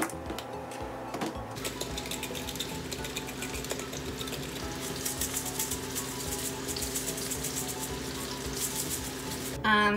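Zucchini slices grilling in a hot pan on a stove, a continuous close crackling sizzle that holds steady throughout, with a brief clatter near the end.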